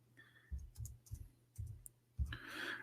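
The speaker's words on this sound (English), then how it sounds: "Oops, got typing. Excuse my keyboard." Light typing on a computer keyboard gives a few scattered soft clicks and taps, quiet and close, with a faint hum in the background.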